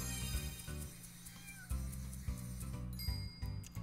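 A cartoonish cat meows in the video game Doggie Dash, a few short mews rising over bright, steady game music.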